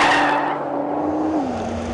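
A 2013 Nissan GT-R Black Edition on a timed lap sounds from inside as a steady engine drone that holds one pitch, then drops as the car lifts off, with faint tire noise and no talking.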